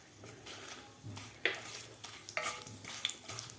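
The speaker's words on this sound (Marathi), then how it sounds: "हे सुद्धा आपल्याला व्यवस्थित हलवून घ्यायचं आहे." Red and green chillies with whole spices stirred in a pan for a pulao, a soft sizzle beneath a few scraping spatula strokes, quiet and close.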